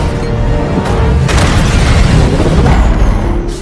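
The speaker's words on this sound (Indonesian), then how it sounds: "hingga terjadilah sebuah ledakan yang akhirnya membuat mereka berdua" An explosion effect from the film Samaritan, a loud, deep, rumbling boom that fills the whole clip and stays heavy without fading, with no voices over it.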